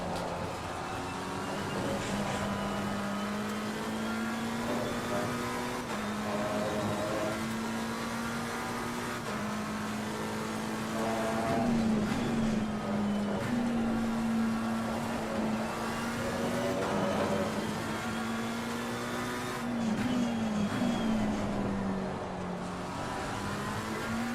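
McLaren 720S race car at Imola in Assetto Corsa Competizione, a steady loud engine drone held at high revs with brief shifts and dips in pitch through corners, continuous and close with no voices.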